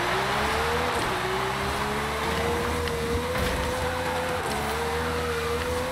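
An Ariel Atom on drag tires accelerates in Forza Horizon 5, its engine holding a steady rising drone with a brief dip as it shifts, loud and continuous with no voices.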